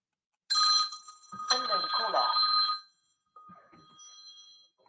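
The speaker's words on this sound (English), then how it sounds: "sorry for the phone call" A telephone rings during a recorded talk, a loud electronic trilling ring that lasts a couple of seconds, then a fainter repeat after a short gap, with a voice briefly mixed in.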